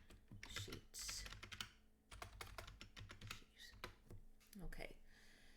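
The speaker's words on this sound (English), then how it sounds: "I'm typing in medical supply order sheet" Fingers type on a computer keyboard in quick irregular bursts of close clicking keystrokes, with a brief pause in the middle and faint mouse-like clicks.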